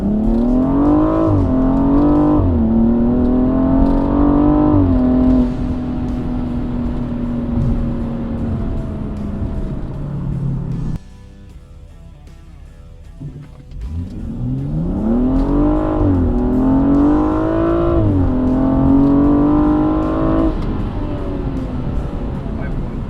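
A car fitted with an AFE intake air scoop and K&N air filter accelerates hard from a standstill toward 60 mph, its engine revving up through several gear changes with a rising, loud roar, a brief drop-off midway, then climbing again.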